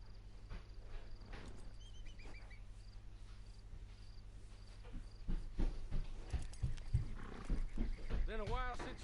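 Horse riding in the video game Red Dead Redemption 2: hoofbeats and horse snorts come in and grow busier toward the end, with game voices and ambient insect chirps around them.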